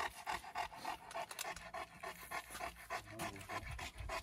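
A Dogo dog pants steadily and close up, quick rhythmic breaths repeating throughout at a quiet level, with no talking over it.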